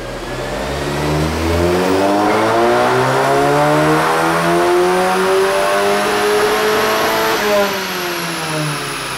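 A car running on E85 fuel revs hard on a dyno, the engine note climbing steadily in pitch over several seconds with a loud, close mechanical roar, then dipping briefly before rising again.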